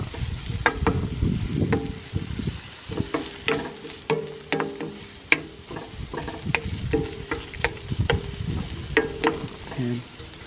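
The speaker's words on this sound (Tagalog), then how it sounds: "Isotay lang po natin ang onion at saka garlic" Onion and garlic sauté in a pan ahead of corned beef, sizzling steadily under repeated scraping stirs and clinks of a utensil, close and fairly loud.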